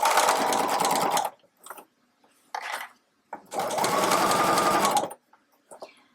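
A sewing machine stitching around a tote bag runs in two longer bursts of rapid stitching, separated by a short burst and quiet pauses with light handling sounds.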